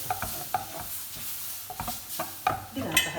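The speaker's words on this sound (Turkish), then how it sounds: "Şerbetimizin yarısını koyuyoruz. Yavaş yavaş yavaş yavaş karıştırıyoruz." Milky flour halva being stirred in a pot after half the syrup is poured in, giving soft scraping and stirring strokes at an uneven pace, with a few sharper clinks and a brief sizzle near the end.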